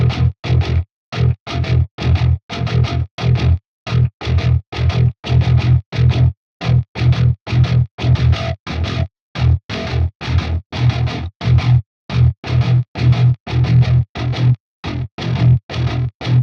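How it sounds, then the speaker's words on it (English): Chugging distorted 9-string virtual electric guitar (Shreddage 3 Argent) through a Fortin Nameless Suite X amp, a tight rhythmic riff of short palm-muted bursts separated by brief silences, loud and steady. "I'm going to use different amps just to show the range of tones you can get with this guitar"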